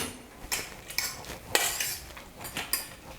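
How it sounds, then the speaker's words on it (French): Pasta being stirred with olive oil in a pot, giving a run of sharp metallic clinks and scrapes at irregular intervals, fairly close and moderately loud, with no talking. "On remue."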